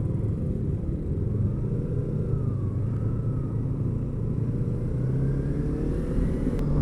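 Congested road traffic with cars and motorbikes, heard as a steady, dense engine rumble that runs without a break throughout.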